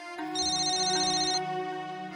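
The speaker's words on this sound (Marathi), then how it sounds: "जे फोन येतोय तुला" A phone ringtone plays a bright, steady electronic melody, loud and close, with no voices over it.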